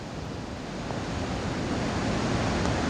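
Floodwater pours over a causeway after heavy rain in Dang district, Gujarat: a steady, loud broadband rush of flowing water that swells slightly over the few seconds, with no voices.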